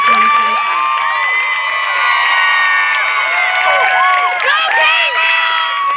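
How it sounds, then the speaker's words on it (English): A crowd of families and students at a middle school promotion ceremony cheers loudly for the graduating class, with excited whoops and shouts in a continuous close roar. Clapping is hard to pick out. "Let's give another round of applause to the class of 2025."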